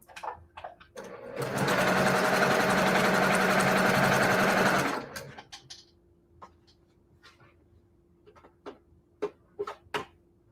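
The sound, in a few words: sewing machine sewing a quarter inch quilt seam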